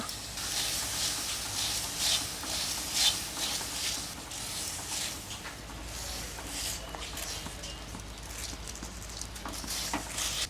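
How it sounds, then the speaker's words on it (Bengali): Chopped chickpeas and kalai dal frying in a kadai give a steady, close crackling sizzle, with scattered sharp pops over a continuous hiss and no voices. "চুচুর করে ফুটছে দেখছো বাবা কি সুন্দর লাফাচ্ছে"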